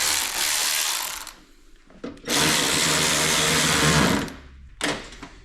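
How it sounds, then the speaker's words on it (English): A power drill whirs in two long bursts and a short final one, drilling holes for mud flaps on a third-generation Firebird, with quieter gaps of scraping between them, close and loud. "he's going to drill the holes for that"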